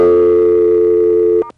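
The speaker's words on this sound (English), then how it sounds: "flash, get a recall dial tone, and dial a code" Recall dial tone on a 1A ESS Centrex phone line, a loud steady electronic telephone tone held for over a second before cutting off abruptly with a short click.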